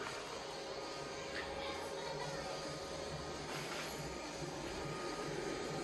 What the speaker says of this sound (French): Le ventilo pour ressortir, bien sûr, l'air chaud de dedans.